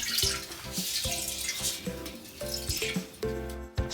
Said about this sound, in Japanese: 水の音しますね。